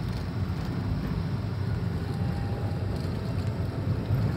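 Steady low engine drone from a Toyota Calya/Sigra cruising in third gear off the throttle, a continuous even hum with wind-like noise and no voices.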